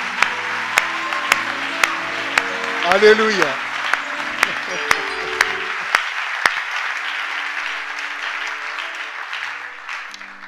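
A church congregation applauds and cheers in a steady, full burst of clapping while a voice calls out over it, and the applause gradually thins toward the end.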